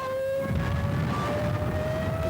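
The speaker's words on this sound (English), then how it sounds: "the siren, the whistling siren when they dive in." Rising wail of a Junkers Ju-87 Stuka dive bomber's propeller-driven siren, a steady howling tone climbing slowly in pitch over a rumbling engine roar, loud and continuous throughout.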